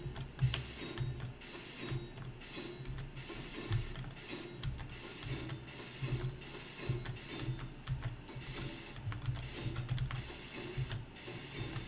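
Welding in the Space Engineers video game produces a rapid, mechanical ratcheting and clattering loop that pulses in bursts with short gaps, fairly faint and continuous, with no voices.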